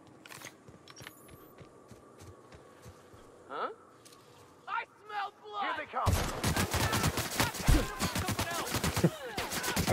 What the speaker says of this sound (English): I missed you with my sniper rifle